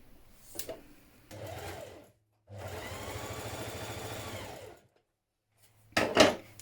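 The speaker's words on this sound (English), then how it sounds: "we're going to stitch from this marking here down to this one here with a 1 centimetre seam" A sewing machine stitches a 1 cm side seam on a tunic in several separate bursts of whirring, the longest a couple of seconds, broken by silent pauses and a sharp clatter at the end, all close up.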